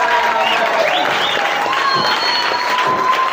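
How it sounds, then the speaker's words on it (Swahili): A church congregation applauds and ululates in praise, a dense, steady wash of clapping with high trilling voices rising over it, loud and close throughout. "Jamani, makofi na vigelegele."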